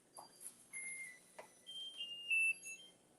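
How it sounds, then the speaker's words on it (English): A kitchen oven timer goes off during baking, giving several thin, high electronic beeps and tones of varying pitch, faint and slightly distant in a quiet room with no talking. "Oh, my oven timer is going to be singing to us."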